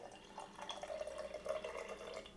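Cold brew coffee is poured into a glass over mocha and milk, a soft, short trickling liquid stream close by and fairly quiet, with no talking.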